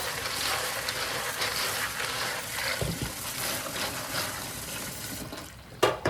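Water runs from a tap through LEGO bricks in a strainer, a steady close splashing rush with a few clattering knocks near the end.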